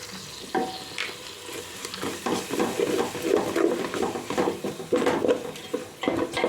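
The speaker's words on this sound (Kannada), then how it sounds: "ಈಗ ಶುಂಠಿ ಬೆಳ್ಳುಳ್ಳಿ ಪೇಸ್ಟ್ ಹಾಕೋತಾ ಇದ್ದೀವಿ." Ginger garlic paste frying in a pan with mutton biryani spices and turmeric, a steady close sizzle broken by scraping stirs and light clinks of a utensil against the pan.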